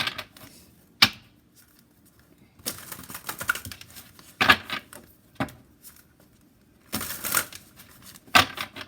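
Tarot cards are shuffled in quick riffling bursts, with sharp slaps and crisp flutters repeating every few seconds, close and fairly loud.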